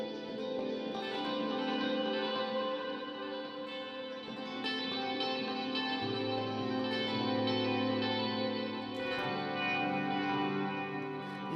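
A guitar drenched in reverb and compression lets sustained chords ring into a smooth wash with echoing tails, playing alone at a moderate level.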